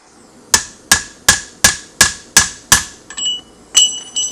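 Hammer blows drive a rivet into the side plate of a Browning 1919 machine gun. Seven sharp, evenly spaced metallic strikes ring out close and loud, followed by a few lighter taps.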